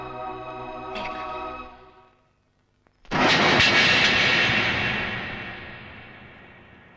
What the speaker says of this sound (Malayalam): ലേഹയുടെ ഫ്ലൈറ്റ് ഇപ്പൊ പോയി കാണും അല്ലേ?